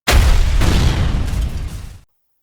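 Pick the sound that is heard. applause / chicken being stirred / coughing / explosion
explosion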